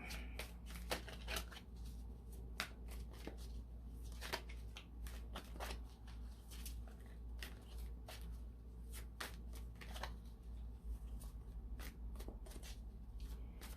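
Tarot cards are shuffled by hand in repeated quick riffling bursts with crisp clicks and snaps, close and fairly quiet, over a low background hum.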